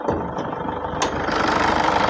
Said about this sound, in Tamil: அந்த இன்ஜின் சவுண்டு நல்லாயிருக்கும்